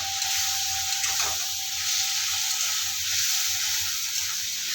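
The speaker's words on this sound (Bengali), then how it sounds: "অল্প করে ঝালের গুঁড়ো দিয়ে দেবো, হাফ চামচের কম হলুদ দিয়ে দেবো, দিয়ে মাছটা ভালোভাবে কষিয়ে নেব।" Tiger prawns frying in a pan with chili powder and turmeric, a continuous close hiss of oil with faint stirring, alone and fairly even throughout.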